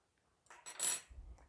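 A knife slicing through a cooked, rested top sirloin steak on a plate, giving a brief, faint scrape and clink of metal, then a soft low thud, heard up close with no talking.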